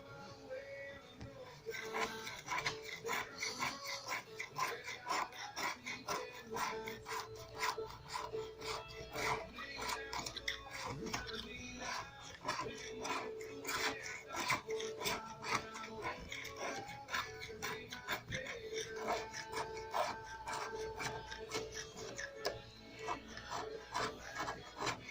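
A Scotch-Brite pad scrubs leftover residue off a jetski during a Waverunner restoration, a continuous quick back-and-forth rasping that stays fairly quiet and close throughout, with no talking.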